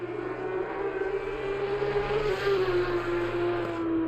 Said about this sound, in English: These cars are so loud how they gurgle and roar.